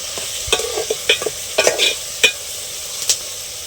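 A spoon scraping and stirring tomatoes, onions and green chilies cooking in oil in a pan for a fish curry, with sharp irregular strokes over a soft sizzle, close and clear.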